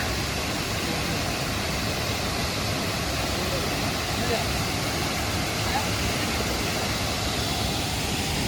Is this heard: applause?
no